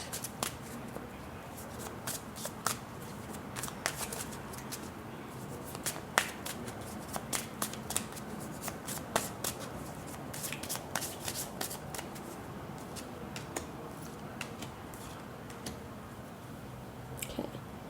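Tarot cards are shuffled close up in a steady run of soft riffles and sharp flicks, quiet and continuous, with no talking.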